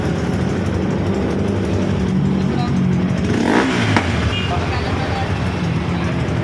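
A Bajaj Pulsar NS200 motorcycle engine runs in a workshop after an epoxy repair, a steady loud idle with a brief rise in revs near the middle, with people talking nearby.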